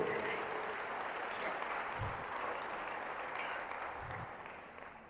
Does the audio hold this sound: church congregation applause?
yes